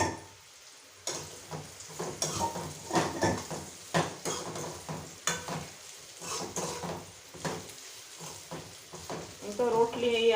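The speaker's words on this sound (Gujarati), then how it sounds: "હવે એમાં રોટલીના કટકા છે એ નાખી દેવાના" Torn roti pieces tossed into hot oil tempered with asafoetida and curry leaves, frying with a steady sizzle as a spoon scrapes and stirs against the pan in uneven bursts, with a voice talking now and then.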